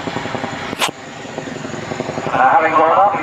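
A large helicopter climbs vertically while rotating, its rotor beating in a rhythmic chop and engine whine swelling louder, with a commentator talking over it.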